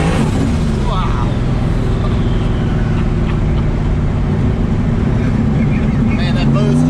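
A Fox-body Mustang with a 427 stroker, large turbo and Turbo 400 transmission accelerates hard from inside the car, a loud steady engine drone and rising boost noise filling the cabin while people talk over it.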